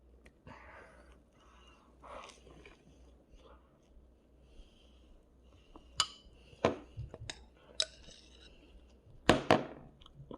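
A knife scrapes and taps as strawberry jam and butter are spread on bread, with soft smearing strokes, a few sharper clinks against a dish or jar toward the end, and quiet speech now and then.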